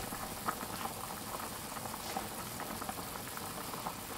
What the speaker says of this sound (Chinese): 先把水烧开，水开后去除一下浮沫